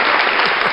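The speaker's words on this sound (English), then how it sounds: "Another applause" A short burst of loud, dense applause from a group of listeners closes an interview about conversational AI and messenger bots, clapping evenly throughout with no voice on top.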